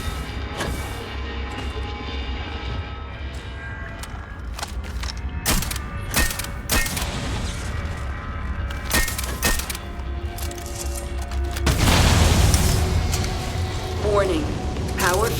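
Gunshot and destruction effects as a modulator is shot and destroyed in Starfield: sharp, separate cracks and mechanical clanks, then a louder crunching burst near the end, with a person talking over parts of it.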